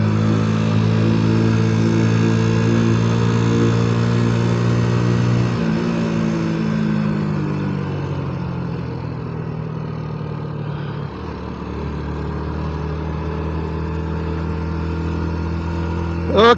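A 125cc motorcycle engine with a poorly running carburettor hums steadily, its pitch sliding and shifting as speed builds, loud and close, ending with a brief sharp rise.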